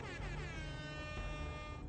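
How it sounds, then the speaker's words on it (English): A single sustained air horn blast, a brassy blaring tone that holds for about two seconds, fairly quiet overall. "I got the air horn."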